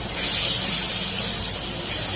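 Chicken stock hits a pan of frying masala with Kashmiri chilli and bursts into a loud, bright hiss of sizzling that holds steady and fades only slightly.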